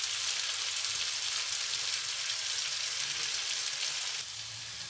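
Potatoes and capsicum (shimla mirch) with onion frying in a pan, a steady dense sizzle throughout at even loudness, dropping slightly near the end.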